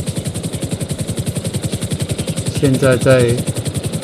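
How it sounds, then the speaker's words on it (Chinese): A helicopter in GTA Online makes a steady, rapid rotor chop that throbs evenly throughout, loud and close, while a voice speaks briefly over it near the end. "将直升机移动到饭店的另外一侧，继续搜寻。"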